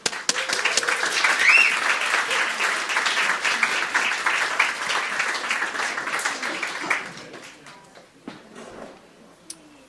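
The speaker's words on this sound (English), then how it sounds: "Do lots of applause for Mark." An audience applauds storyteller Mark Rutterford at a live storytelling night. The clapping is dense and steady for about seven seconds, then thins out and dies away, with a few faint voices underneath.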